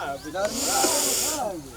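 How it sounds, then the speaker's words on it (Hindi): A large snake, found during the wheat harvest, gives a sustained breathy hiss like a cobra's, loud and close, swelling and fading over a second and a half. "ये कोबरा सांप की तरह भी फूंक मारता है।"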